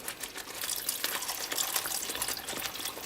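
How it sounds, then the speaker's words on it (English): Water poured from a tap or jug into a Thai peanut curry sauce, a steady splashing trickle at close range running throughout, with no talk. "Let's add a little more water to it."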